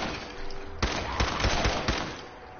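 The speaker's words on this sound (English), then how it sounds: "Okay, I'm gonna shoot the 308" Gunfire in Fallout 4 from a .308 rifle: several sharp, loud shots ring out over a dense, steady backdrop of game sound.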